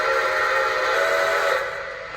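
Sustained steam whistle of a Lionel Legacy Santa Fe L1 Mikado model locomotive, a loud breathy multi-tone blast held for about two seconds before trailing off, with no voices.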